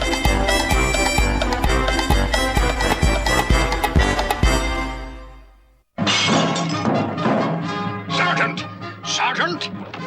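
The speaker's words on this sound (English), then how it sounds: "Somebody just threw this funny-looking rock through my window." Glass shatters loudly as a rock is thrown through a window in a cartoon, a sharp crash amid dense background music with a sudden break and voices around it.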